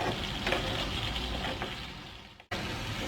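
Boiled tapioca sizzles steadily in a pan as the cooking water boils off, with a continuous bubbling fry and a brief dropout near the end.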